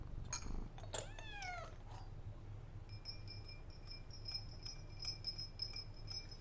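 A cat meows close by with several rising, drawn-out cries near the start, followed by faint clinking over low background hum.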